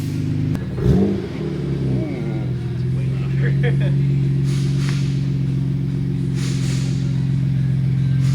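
A Nissan R32 Skyline GTR fitted with a new exhaust idles steadily while being backed out, its low burbling drone close and continuous with a brief rev near the start, and people talking over it.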